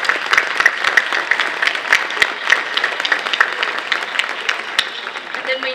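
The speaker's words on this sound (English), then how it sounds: "please stand up so we can give you a round of applause" A crowd at a mayor's ball gives sustained applause, with individual sharp claps standing out over a continuous patter of clapping throughout.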